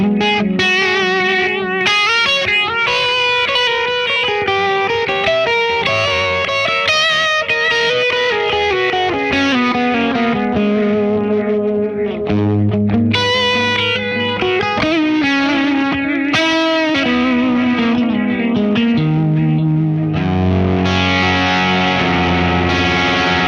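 Electric guitar through a soft, barky vintage-style overdrive with echo, playing continuous melodic lines and chords at a steady, loud level with trailing repeats, no talking.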